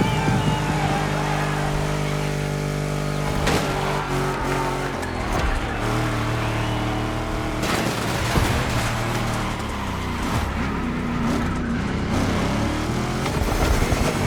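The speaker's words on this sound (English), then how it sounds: "Let's hear these engines." Several cars rev their engines at a Crew Motorsport dunks-or-donks car meet in Oahu, Hawaii, a dense, continuous roar of overlapping engines with sharp bursts and pops near the middle, loud and close throughout.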